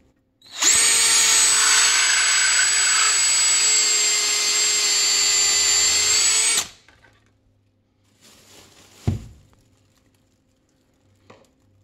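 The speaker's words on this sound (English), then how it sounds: "Let me introduce you to the spin swage drill bit." A power drill spinning a spin swage bit on a ceiling cassette minisplit line whines loudly at high speed for about six seconds, then stops; a brief clunk and faint handling noises follow.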